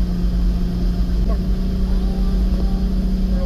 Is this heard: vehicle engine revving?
yes